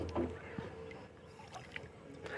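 A hand-rowed boat moves across calm water, heard only faintly: soft, scattered paddle splashes and water sounds at low level, with no voices.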